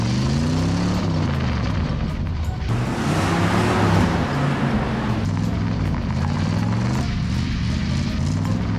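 A Plymouth car in the PS1 racing game Driver keeps up a steady, loud engine drone through a parking-lot slalom, its pitch sweeping up and down as it accelerates and slows, with no speech.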